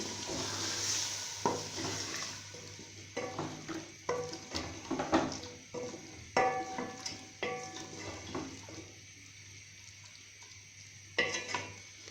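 Chicken with tomato, salt, chilli, turmeric, green chillies, biryani masala and a little water cooking in a pot for Pakistani chicken biryani, with steady bubbling and sizzling, scattered stirring clinks and scrapes, and no talk.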